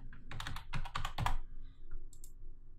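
Computer keyboard typing and mouse clicking at a desk, a quick cluster of close, fairly quiet keystrokes and clicks followed by a pause and a few softer taps.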